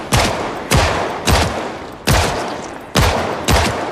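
Six heavy video-game gunshots fire at a steady, slightly uneven pace, each a loud booming crack with a short decaying tail, close and alone.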